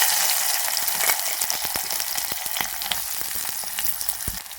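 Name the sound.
sliced onions frying in oil in a pressure cooker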